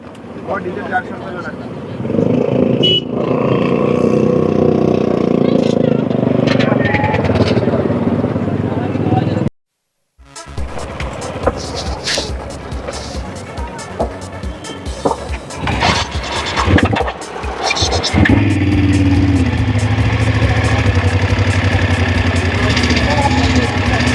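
Motorcycles running near a ferry crossing on a road trip toward Ganapatipule, engines idling and revving in a steady low rumble, loud and close, with people talking over it and a brief gap partway through.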